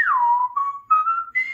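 A synthesized whistling tone from Chrome Music Lab Song Maker glides down from a higher pitch, then steps through a few short sustained notes and ends slightly higher, clear and alone.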